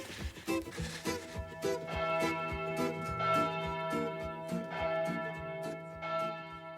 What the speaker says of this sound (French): Les cloches ont fini de sonner.